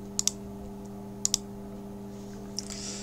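Computer mouse clicks close and crisp, two quick double clicks a second apart and a fainter single click near the end over a quiet electrical hum.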